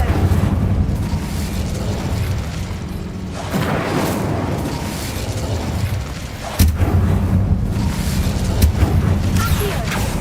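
Incendio fire spell cast in Hogwarts Legacy: roaring, booming bursts of flame swell over a dense rumbling bed, with a sharp loud burst partway through and sustained fiery noise, with faint voices in the background.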